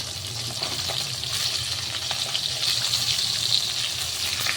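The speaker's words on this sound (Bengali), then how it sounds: "এদিকে আলু ভাজাটাও করে নিচ্ছি, একটু বেশি করে তেল দিচ্ছি" Potatoes frying in a generous amount of oil, a continuous close bubbling sizzle with faint stirring, steady and without speech.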